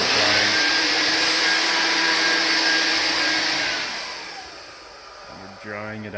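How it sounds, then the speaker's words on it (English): A pressure washer cleans the teak wood floor of a custom-built screened-in porch, producing a loud, steady hiss of spray over a droning motor that fades partway through and is then joined by a brief humming tone near the end. "This is pressure washing."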